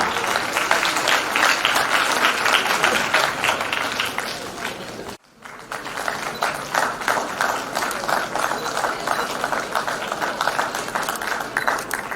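Audience applause at an army national quiz semi-final, a loud sustained crowd clapping that cuts off abruptly midway and then resumes just as strongly.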